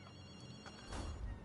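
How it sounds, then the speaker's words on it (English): A telephone ringing in the video game Ghostwire: Tokyo, a faint, steady electronic ring with a low thump near the end and no talking. "I'm going to pause the game so we don't hear the phone ringing"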